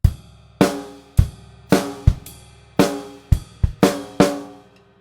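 Drum kit playing a swung groove with an extra snare hit on the upbeat of beat 4, close and loud, sharp hits in a steady bouncing pattern with ringing decays and cymbal wash between strokes.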